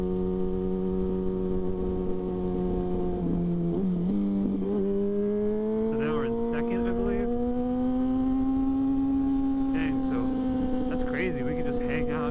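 A 2006 Yamaha FZ6 naked motorcycle hums steadily while being ridden, its engine note rising slowly as it accelerates, close and continuous, with wind noise and no talking.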